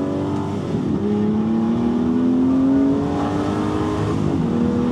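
An Aston Martin V12 Vantage S at full throttle, the V12 engine note climbing steadily through a long rising pull as the car accelerates hard, loud and close from inside the car.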